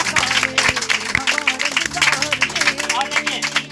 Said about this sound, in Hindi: चाहेंगे एक बार और जोरदार तालियां हो जाए।